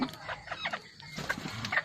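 A few short clucks from crossbred decoy jungle fowl, close and moderately loud in a brief burst.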